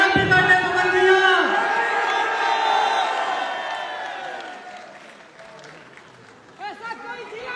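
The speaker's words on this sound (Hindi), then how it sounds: "तालियां बजाइए, हैप्पी बर्थडे पवन भैया" Audience applause and cheering at a birthday celebration for Pawan Singh, a loud crowd roar that gradually fades while a voice speaks over it.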